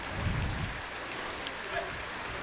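Heavy rain pouring down on an outdoor baseball game, a constant broadband hiss at moderate level with faint low rumble early and a couple of small sharp ticks, no talk.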